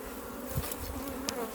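Honeybees buzz around an open hive during an inspection, giving a close, steady drone with a few brief sharper passes from individual bees.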